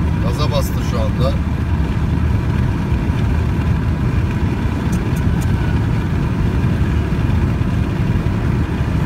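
A car engine under throttle on the road, a loud steady low drone and rumble that holds through the stretch, with voices talking over it.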